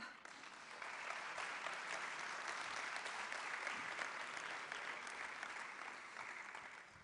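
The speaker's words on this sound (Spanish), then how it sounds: "Un aplauso para él" Steady applause from a seminar audience greets the next speaker at a talk on organisational and behavioural change, a dense, even wash of many hands clapping that swells after the first second and holds for several seconds.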